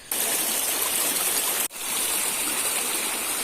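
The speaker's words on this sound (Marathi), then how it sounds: "नदीला मस्त की पूर आला आहे" A river swollen by monsoon flooding in the Konkan countryside rushes loudly and steadily, a dense close roar of flowing water broken by one brief dropout partway through, with no voices.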